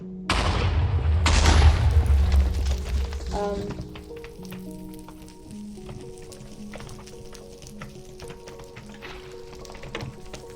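Something burning in Minecraft, opening with loud crackling bursts and booms that fade into a quieter fizzing, close and without talk.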